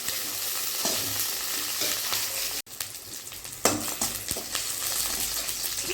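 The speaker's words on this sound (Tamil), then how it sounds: "பச்சை மிளகா வதங்கிச்சு இப்போ வெங்காயம் சேர்த்துக்கலாம் வெங்காயம் நல்லா வதங்கட்டும்" Onions and green chillies sautéing in a pan for veg kurma give a constant close sizzle, with a brief dropout midway and then stirring scrapes and a louder burst of frying.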